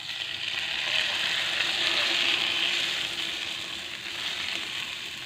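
Three seasoned eggs frying in a hot pan, a steady bright sizzle that swells slightly and then settles, close and continuous with no talking.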